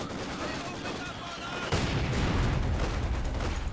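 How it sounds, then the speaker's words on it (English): Soviet mortar fire in a strategy video game, a steady roar of distant battle that swells into heavier, louder impacts partway through, with commentators talking over it. "Soviet mortar actually doing some good damage to Vet 2 already"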